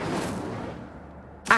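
A fire spell cast in a Harry Potter wizarding video game, heard as a loud whooshing burst that fades over about a second, followed by a sharp new hit at the end.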